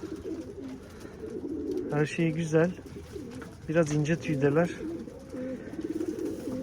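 Pigeons coo in repeated throaty phrases close by, at a loft holding a pair of soap-coloured squab, while someone talks over and between the calls.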